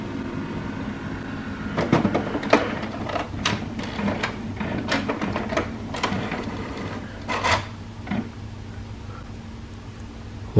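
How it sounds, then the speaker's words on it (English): Mechanical clicks, whirs and rasping scrapes from a nearby HP Smart Tank inkjet printer powering back on, with irregular bursts over a low steady hum. "Once the printer is powered down, power on the printer again."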